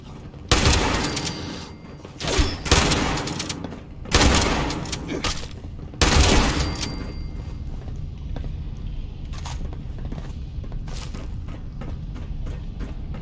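Shotgun fire in the video game Fallout 76, several loud booming blasts in the first seven seconds spaced a second or two apart, followed by quieter rumbling ambience.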